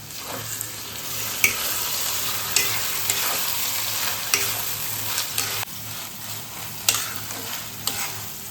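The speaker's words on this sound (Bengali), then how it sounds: "একটুখানি কিছুক্ষণ নাড়াচাড়া করে লাগিয়ে নিচ্ছি দু তিন মিনিট" Ridge gourd and onion with poppy seed paste are stirred in a pan over low heat, giving a steady gentle sizzle punctuated by regular sharp spatula scrapes against the pan.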